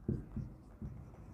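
Chalk or pen writing on a board or paper during a class-10 science lesson, a few short soft scratchy strokes, faint and close, with no speech.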